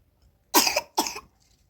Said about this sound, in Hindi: खांसी है, खांसी मैं है।